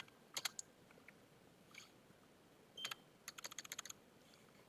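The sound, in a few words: typing a Linux command on a computer keyboard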